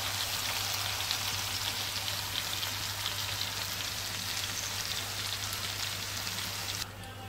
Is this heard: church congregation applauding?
no